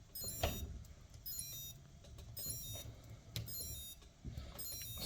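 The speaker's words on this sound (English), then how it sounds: "that's the beeping you hear from the tail servo until you give it the right frequency" Electronic beeping from a helicopter tail servo awaiting its correct frequency setting repeats several times over a steady mechanical background hiss, fairly faint and without speech.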